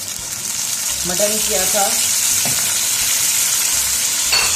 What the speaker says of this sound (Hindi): दालचीनी है, लौंग है, मोटी इलायची है 1 अदद और ज़ीरा है, और ये मैंने इसमें डाल दिया।